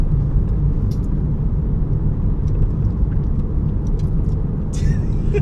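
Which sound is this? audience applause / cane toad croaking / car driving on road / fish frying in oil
car driving on road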